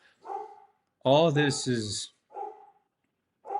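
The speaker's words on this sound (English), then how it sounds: "the dog is out there barking" A dog barks outside in short, loud bursts, interleaved with brief spoken words nearby.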